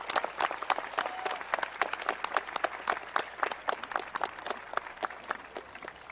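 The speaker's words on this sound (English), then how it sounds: "Please join me in thanking them with a well-deserved round of applause." Steady applause from an audience at a high school graduation, dense overlapping claps continuing throughout at a moderate distance, with no voices.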